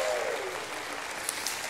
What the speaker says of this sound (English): Give him a hand clap and a shout of praise.